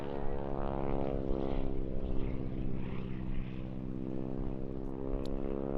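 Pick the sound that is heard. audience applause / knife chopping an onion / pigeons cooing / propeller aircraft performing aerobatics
propeller aircraft performing aerobatics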